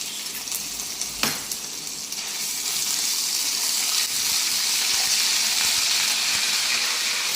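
Ginger garlic paste dropped into melted butter in a pan for Kolhapuri palak paneer, a sharp hit and then a loud, dense hissing sizzle that swells and holds steady, close up.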